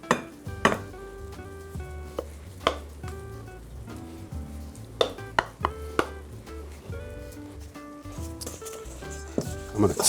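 A sweet potato mixture is spooned and scraped into a casserole dish, with clinks of utensil against dish and sharp knocks throughout, under music.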